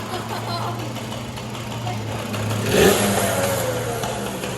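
A small Yamaha PW80 dirt bike engine idles steadily while its carburetor is tuned, then swells in a brief rev before settling back. Quiet voices talk nearby.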